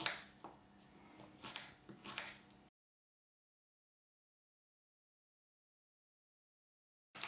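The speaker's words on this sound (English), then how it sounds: "So I'm just going to chop this one finely." A knife finely chops an apple on a board, with quick irregular taps close by for under three seconds before the sound drops to silence.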